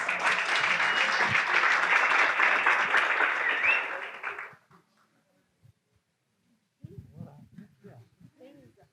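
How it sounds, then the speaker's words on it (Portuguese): Audience applause for Jussara at a church-style family gathering, a dense burst of clapping that fills the first four and a half seconds and then stops abruptly, followed by a pause and some talking. "uma salva de palmas para ela, por favor"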